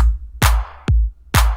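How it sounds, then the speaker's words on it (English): A punchy stomp-clap drum pattern for dance pop: deep thumping kicks alternating with a sharp clap-like hit, three strong beats in a slow, even groove. "Put it into a simple stomp clap rhythm that sounds like this."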